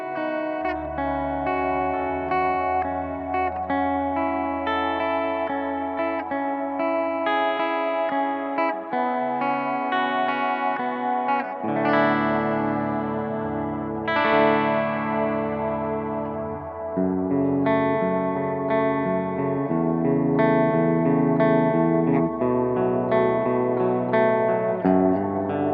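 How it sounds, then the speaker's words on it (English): Clean electric guitar, a Dean Flying V, playing chords and melodic lines through a multi-voice pickup's shimmering, multi-voiced sound with a touch of echo, steady and up close with no talking. "Here is some sort of clean playing with this thing"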